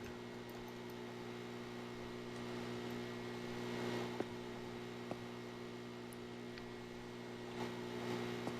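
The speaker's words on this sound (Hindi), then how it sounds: "मुझे पंखे की आवाज तो मत सुनाओ कम से कम" Steady electric fan drone in a quiet room during play of the horror game Locked Up, a constant low hum with faint ticks, no talking.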